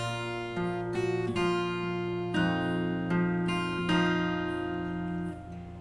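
Fingerstyle acoustic guitar plays a short passage of a song, bass notes and treble strings combined, with about seven plucked notes at a moderate pace ringing into each other before fading, close and clear.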